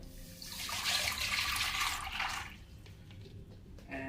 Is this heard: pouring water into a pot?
yes